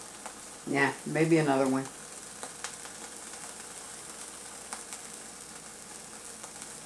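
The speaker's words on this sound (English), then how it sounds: "Look how that water's boiling." Water boiling hard in a pot on the stove, a steady faint bubbling hiss that runs throughout, with a brief stretch of talk near the start.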